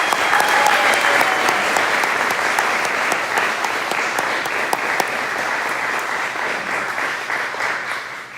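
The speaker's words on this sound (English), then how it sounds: "please give our new inductees one more round of applause" An audience at a National Honor Society induction ceremony claps steadily for the new inductees in a loud, continuous round of applause that eases off slightly at the end.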